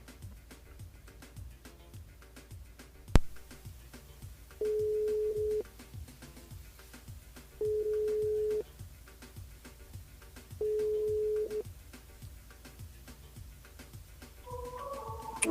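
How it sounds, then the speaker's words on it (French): A telephone call goes unanswered, giving three steady beeps spaced about three seconds apart over a faint background of rhythmic music, with a brief click and some quiet tones at the very end. "on appelle l'autre personne, on appelle Denis"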